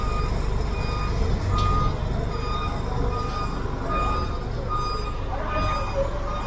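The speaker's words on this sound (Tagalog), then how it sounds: "Ito pa isa, yung tow truck." A tow truck's reversing alarm beeps steadily under a loud, rumbling diesel engine idle on a busy street during a vehicle towing clearing operation.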